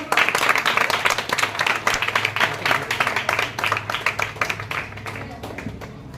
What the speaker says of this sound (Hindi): नीचे तालियों के साथ स्वागत।